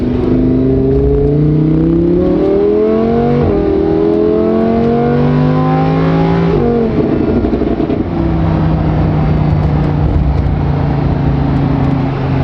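A Corvette engine revs hard, pitch climbing in repeated surges through gear changes before settling into a steady, loud drone.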